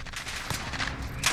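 Full-auto fire from an AAC Honey Badger rifle in Call of Duty Modern Warfare, a dense continuous burst of rapid gunshots lasting the whole short moment, loud and close with no talking.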